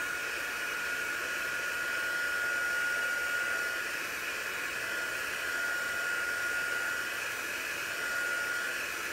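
A heat tool blows steadily, drying chalk paste on a canvas, a constant close whooshing hiss with a high whine that holds evenly throughout with no talking.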